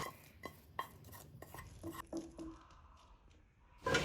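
Rava laddu mixture being scraped from a pan into a bowl, with soft scrapes and light metallic clinks of a spoon against the dishes, quiet and close, ending in a louder clatter.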